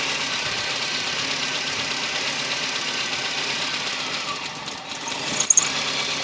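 A VW Golf with MP9 fuel injection idles steadily with its fuel pressure regulator blocked off, a constant near engine drone with slight knocking texture, dipping briefly near the end before a few sharp clicks.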